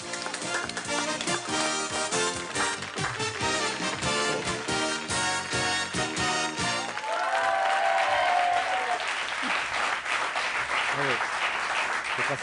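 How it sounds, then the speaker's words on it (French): A TV studio audience on a 1989 quiz show breaks into loud, sustained applause in the second half, after a stretch of music, with a voice briefly heard over the clapping. "Je crois qu'on peut vous applaudir très très très fort."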